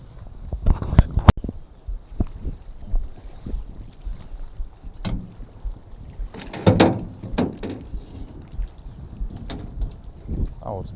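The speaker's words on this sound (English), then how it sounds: "So I got to paddle out there now." A small boat is paddled out on open water: irregular splashes and knocks of the paddle, some louder strokes, wind buffeting the microphone, and faint voices in the background.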